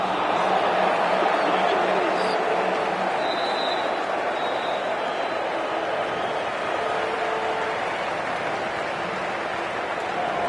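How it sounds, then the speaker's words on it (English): Cricket crowd at a live India vs New Zealand T20 match applauding a departing batsman, a steady wash of clapping and crowd noise filling the stadium, with a commentator's voice faintly over it. "they'll receive a warm reception from the crowd"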